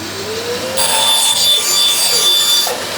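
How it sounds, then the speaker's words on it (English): A bandsaw rips a wooden board lengthwise along the fence, building to a loud, steady whine of blade through wood that runs for about two seconds before trailing off, with no speech. "I'm working just off the fence on the bandsaw."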